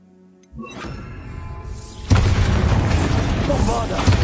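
Bombarda spell explosion in the Hogwarts Legacy video game: a sudden low boom followed by a louder crashing blast with shattering debris that rumbles on, with a voice speaking over it.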